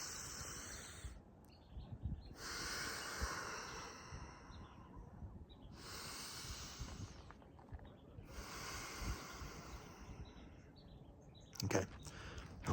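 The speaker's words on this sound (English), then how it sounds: "let's take 2 more big breaths" Slow, deep breaths during a guided grounding exercise, four long airy inhales and exhales spaced a few seconds apart, close and soft, with no talking over them.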